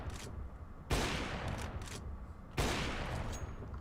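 Two bursts of rapid gunfire shoot through a wall on the Nuke map in Counter-Strike, each a loud, sharp volley that rings out and then trails away, with a pause between them.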